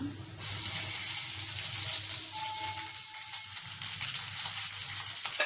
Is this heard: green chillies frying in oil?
yes